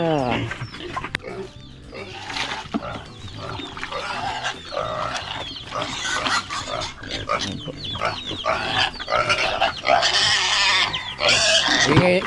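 Pigs squeal and grunt continuously during feeding time, a dense, noisy chorus of shrill cries and snorts that swells louder toward the end, with a person talking intermittently in the background.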